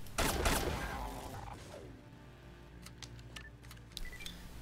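Mag pistol shots in the video game Sword of the Stars: The Pit, opening with a loud burst of gunfire, then fainter sharp clicks and pops over a low steady game hum.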